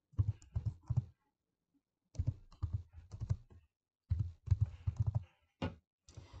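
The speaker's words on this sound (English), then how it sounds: "I'm going to start typing." Quiet bursts of typing on a computer keyboard, with quick clicking keystrokes in three or four short runs separated by pauses and no voices.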